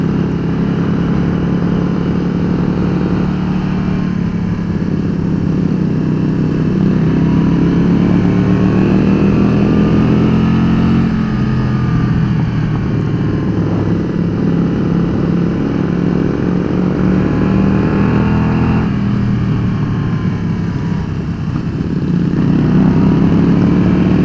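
A motorcycle on a group ride along the winding mountain road called the Back of the Dragon, short-shifted and held in fifth gear. Its engine drones steadily and close, the pitch rising and dipping with the throttle, with no talk.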